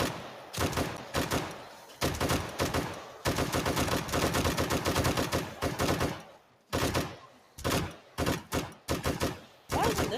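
Rapid gunfire in a zombie video game, long runs of dense automatic shots broken by brief pauses and shorter bursts, loud and continuous in the foreground.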